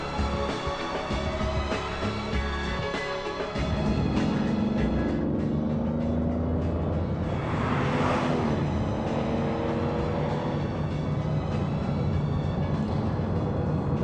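A sports car engine drones steadily while pulling uphill in fifth gear at about 1700 rpm, a low, even hum with a faint rise midway and no voices.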